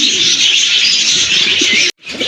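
A huge old-blood red pati male pigeon of an old breed coos low and repeatedly, close by, beneath a steady bright hiss that cuts out briefly near the end.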